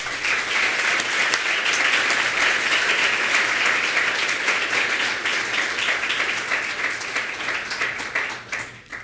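A lecture audience breaks into loud, sustained applause to welcome architect Caroline Bos of UN Studio at Princeton University, with dense clapping holding steady for about nine seconds before starting to thin out.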